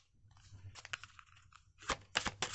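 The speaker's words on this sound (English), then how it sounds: "You can hear me shuffle." Playing cards being shuffled by hand during a card reading, close and quiet, with soft riffling crackles that build into two louder bursts near the end; no talking.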